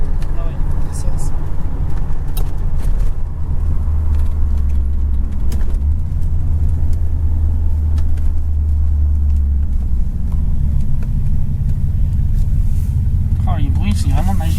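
A 1978 Chevrolet Corvette C3 Stingray engine rumbling steadily while driving, a deep low drone heard from inside the car with people talking over it.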